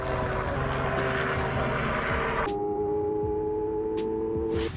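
A propeller airplane flying upside down drones steadily and loudly throughout, its engine note holding constant pitch, with a brief shift in tone midway and no voices.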